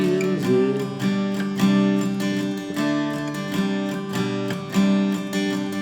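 Acoustic guitar strumming the chord progression of a song, with repeated down strums in a syncopated rhythm, ringing chords close and loud with no voice over them.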